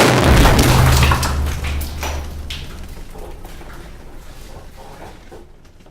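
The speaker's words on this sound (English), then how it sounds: "Dynamite was inserted," Dynamite detonates in drilled rock holes to seal a cave: one heavy, loud boom that rolls into a long, deep rumble and slowly fades over several seconds.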